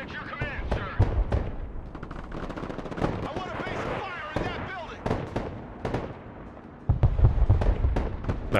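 Bursts of .50 cal machine-gun fire from armored vehicles in the Broken Arrow battle game, loud rapid rattling volleys mixed with explosions, with a voice talking throughout.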